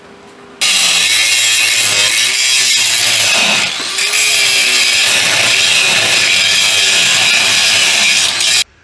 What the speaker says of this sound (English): Let me grind all that welding stuff smoothly, then I'll do the other side the same way.